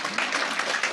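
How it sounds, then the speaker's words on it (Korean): Audience applause at a company leadership meeting, a dense burst of clapping from a crowd that carries evenly through the whole moment. "저분에게 박수 한번 해주세요"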